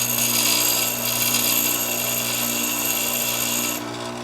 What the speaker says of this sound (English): And I can grind the other side.